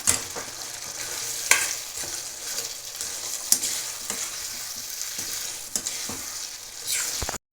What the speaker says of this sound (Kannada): ಇವಾಗ ಫ್ರೈ ಮಾಡಿರೋ ಮೊಟ್ಟೆ ಮತ್ತು ಹಳದಿ ಭಾಗನೂ ಇಟ್ಕೊಂಡಿದ್ದೀನಿ ಅದರಿಂದ ಚೆನ್ನಾಗಿ ಮಿಕ್ಸ್ ಮಾಡೋಣ